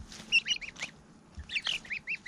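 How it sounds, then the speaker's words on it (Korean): A young goose with a misaligned, injured beak pecks at vegetables, giving short nasal honks and chirping calls in two close bursts separated by a brief lull, with soft pecking noises underneath. "불편한 부리로 힘들게 야채를 먹는 유니스트 7번 거위"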